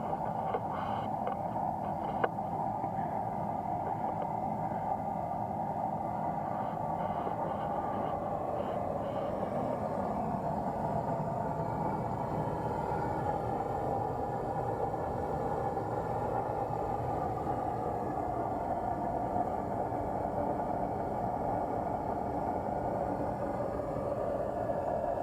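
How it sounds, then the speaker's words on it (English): A homemade foundry burner fed with waste vegetable oil roars steadily and continuously, a dense low rumbling whoosh holding even level throughout with no speech. "Finally got this waste vegetable oil do-it-yourself foundry burner burning."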